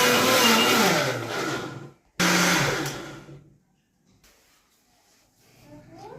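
Kitchen blender grinding moong dal batter with ginger and cumin, a loud whirring burst that stops briefly and restarts, then spins down to quiet handling noises.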